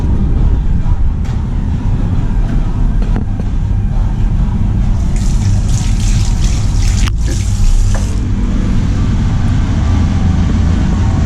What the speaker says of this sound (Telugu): ముందుగా హ్యాండ్ వాష్ చేసుకుందాం.